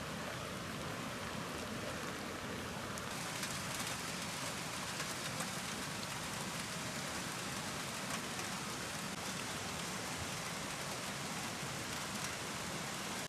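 Heavy rain pours continuously, a dense, loud, steady hiss of water striking surfaces with no breaks and no voices.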